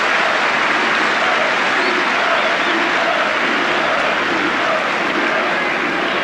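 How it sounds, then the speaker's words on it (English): Football crowd at a 1982 Division One match between Watford and Everton, roaring loudly and steadily as a shot fizzes into the side netting, a dense sustained wall of cheering throughout. "A roar from the crowd who thought for a moment it had gone inside."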